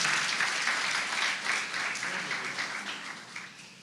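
Steady applause from a church congregation, sustained clapping in worship that slowly tapers off over a few seconds.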